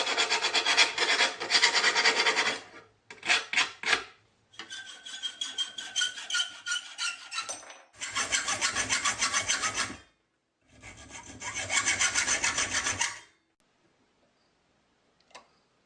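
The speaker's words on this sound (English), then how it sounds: "That left a slight burr, so I'll just clean it up with a file." A hand file rasping over the freshly cut end of a metal linear glide track to clear a burr, loud close strokes in several runs separated by short pauses.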